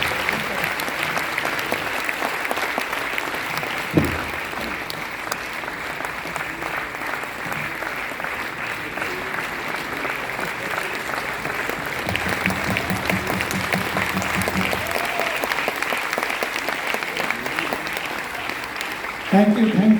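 Sustained applause from a seminar audience fills the room, steady and dense for about twenty seconds, with voices heard over it.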